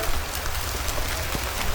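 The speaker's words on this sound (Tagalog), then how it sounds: "At ayoko mabasa ng ulan." Steady hiss of rain falling evenly across the whole stretch, with faint scattered drops pattering close by and no voices.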